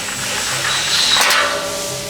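Ratcheting on a Toyota 4Runner, driving longer M8 bolts through skid plate spacers during a leveling kit install; close, loud, continuous clicking from a ratchet tool lasting about two seconds with no talk.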